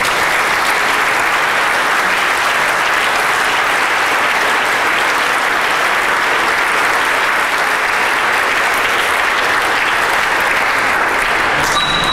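A large audience claps at an award ceremony during the ICES ASC 2018 closing ceremony. Dense, loud, even applause fills the whole stretch without a break.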